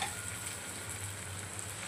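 Red chili powder, coriander and ground masala sauté in a little oil for a katla fish curry, giving a steady close-up sizzle and crackle with a low hum beneath, continuous and without talk.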